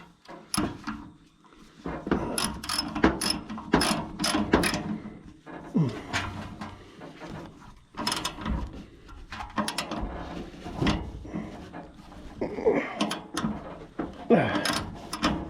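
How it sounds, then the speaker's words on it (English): A ratchet tightens a nut and bolt on the top radiator brace of an International 434 tractor, producing rapid clicking bursts and metallic clanks in uneven spells, close and fairly loud, with short pauses between strokes. "Just need to tighten up the bolt, nut and bolt here on the top brace for the radiator."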